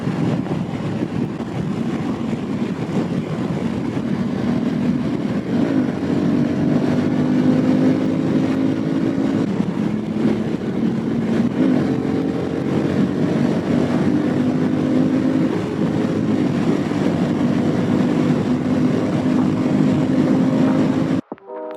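A 2022 Honda CRF1100L Africa Twin Adventure Sports ES DCT motorcycle ridden in sport mode, its engine droning steadily with rising pitch sweeps as the gears change, heavily mixed with rushing wind noise throughout.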